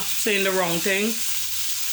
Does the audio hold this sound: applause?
no